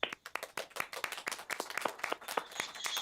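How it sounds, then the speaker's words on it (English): A small audience at a city council meeting claps for a contestant, a sparse, quiet run of distinct individual handclaps at an uneven pace, with a faint murmur beneath. "I'm listening for applause"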